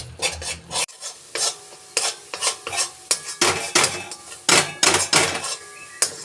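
Powdered milk stirred into a sweet mixture in a pot for a homemade Bengali sweet, with a spoon scraping and clinking against the metal in steady, close, repeated strokes, with no voices.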